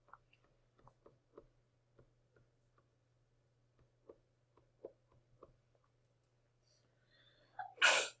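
A single loud, close sneeze bursts out near the end of a quiet classroom math lesson, after a stretch of faint scattered ticks and small clicks.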